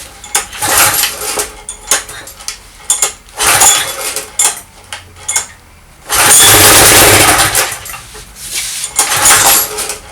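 A Briggs & Stratton generator engine is being started: several short, loud bursts of cranking and sputtering come first, then the engine catches and runs with a sustained loud roar for a few seconds before faltering.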